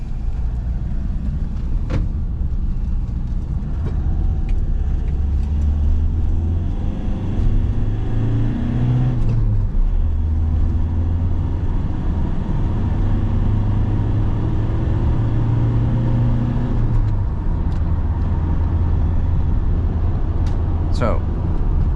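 Cabin sound inside a Ford Transit Custom 2.2 TDCI 155HP van driving on a highway: a steady low engine drone and road rumble with shifting engine tones, continuous and close throughout.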